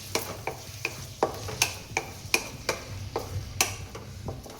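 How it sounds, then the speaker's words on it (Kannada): Chopped onions and green chillies fry over a low flame while a spatula scrapes and taps the pan in a brisk, regular rhythm over a soft, continuous sizzle, close up and without voices. "ಈರುಳ್ಳಿ ಹಾಕಿ ನೀಟಾಗಿ ಫ್ರೈ ಮಾಡೋಣ"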